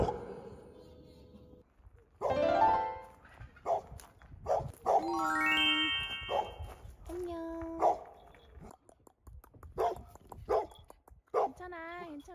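An excited dog greets arriving guests at a holiday rental door in southern France with sharp barks, high yips and whining whimpers in irregular bursts, close by and mixed with people talking.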